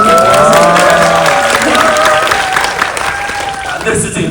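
An audience at a movie talk event claps and cheers, loud and sustained applause that thins out toward the end, with voices speaking over it.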